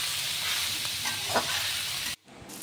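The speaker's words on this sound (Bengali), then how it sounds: "লাউটা কেটে রেখেছিলাম সেটা দিয়ে দিচ্ছি। একটু নাড়াচাড়া করে নেবো তেলে।" Cut bottle gourd pieces fry in oil as they are stirred, giving a close, continuous sizzle with a few scraping strokes before the sound abruptly drops away near the end.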